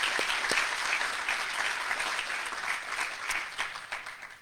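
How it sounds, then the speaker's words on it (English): Sustained audience applause for guide dog puppy raisers at a guide dog class graduation ceremony, a steady wash of many hands clapping that holds fairly even and tapers slightly toward the end. "let's give one other big round of applause to all of our puppy raisers"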